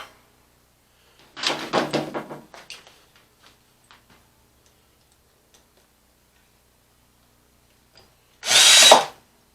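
A power drill drives 2.5-inch drywall screws into a wooden chainsaw starting jig in two short whirring bursts several seconds apart, with faint ticks and knocks between them.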